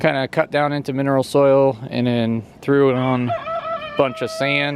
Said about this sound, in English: You can hear the rooster in the background there.